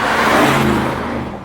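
An Audi RS Q8 engine in dynamic mode gives a loud, steady low rumble with a broad throaty roar, holding constant and easing slightly toward the end, with no talking.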